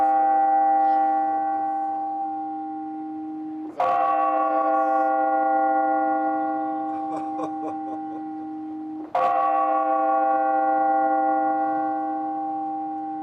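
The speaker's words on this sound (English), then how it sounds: "the clock tower's just striking the hour there, and now some more bells in the background" A clock tower's deep bells strike the hour loudly twice, about five seconds apart, each leaving a long humming decay, with faint higher church bells chiming in the distance between, in Poland.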